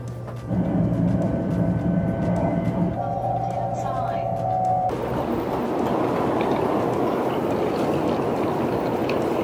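A high-speed train travelling from Taoyuan to Hsinchu in Taiwan rumbles steadily from inside the carriage, a broad continuous roar with tonal hums that shifts midway to a louder rushing noise as people talk quietly over it.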